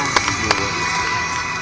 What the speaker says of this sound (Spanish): creo que se merecen un fortísimo aplauso